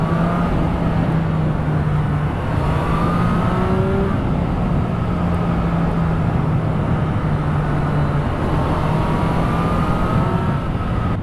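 A car pulling away on a clear open road, steady loud engine drone with rising and falling tones as it gathers speed, heavy road and wind rush underneath.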